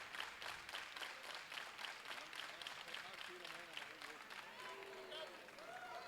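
A crowd claps and cheers throughout a world-record attempt at a women's open 84 kg classic powerlifting championship, a steady dense wash of applause with an announcer's voice carrying faintly over it.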